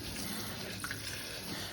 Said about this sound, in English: Look at that water pressure.